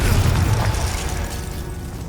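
A Confringo blasting spell explodes in the Hogwarts Legacy video game: a loud, deep boom at the start rolls into a rumbling tail that slowly fades, with no voices.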